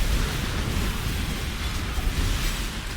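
Dense, continuous explosions and bursts fill the screen in a Path of Exile Heist fight against an abyss, a steady loud roar of overlapping blasts with low rumble and no clear gaps.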